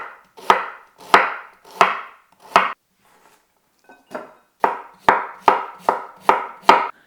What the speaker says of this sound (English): like to cut the cabbage into ribbons